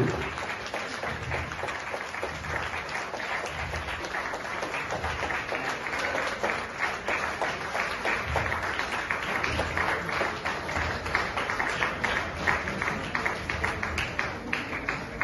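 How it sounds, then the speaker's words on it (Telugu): A hall audience claps steadily and continuously for the dance students of Laharisri Nrutyaniketan at a Vasavi Club appreciation event, a dense, even roar of many hands lasting throughout with no voices. "So let us give good round of applause."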